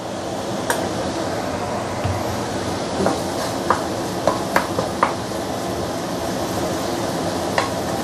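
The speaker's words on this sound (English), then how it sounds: "this process you may take a couple of minutes to slowly saute your curry powders" Curry powders sautéing in hot oil for a tilapia fish curry give a steady, close sizzle and frying hiss, with a few sharp spoon taps and scrapes against the pan scattered throughout.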